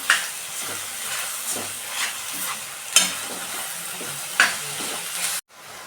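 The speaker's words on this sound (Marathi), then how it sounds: "हे आता मी ओल्या नारळाचं तूप टाकते मस्त मस्तपैकी आपण हलवून घेऊया" Spoon stirring fresh coconut and ghee modak filling in a pan, with steady scraping and soft sizzling throughout and a few sharper clinks of the spoon against the pan, close and alone.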